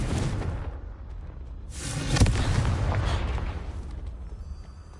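A Confringo blasting spell in Hogwarts Legacy lands with a loud booming explosion midway through, its blast rumbling and fading under continuous background game sound.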